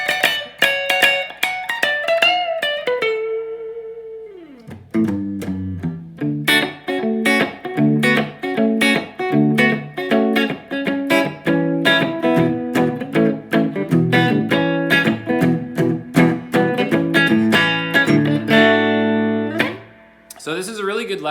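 Intro riff on electric guitar, a bright phrase with a downward bend and then a fast run of picked notes and chords, loud and close with no talking.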